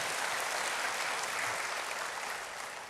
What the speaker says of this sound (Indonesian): Berikan tepuk tangan hebat bagi Tuhan.